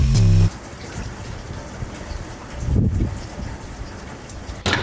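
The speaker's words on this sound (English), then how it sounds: "it's nighttime, it's raining" Steady rain hissing down outdoors at night, a dense wash of drops on surfaces with a brief louder patch, preceded by a short tonal blip.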